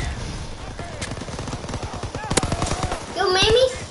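Rapid bursts of video game gunfire crackle in dense volleys, with excited children's voices talking and calling out over the shooting.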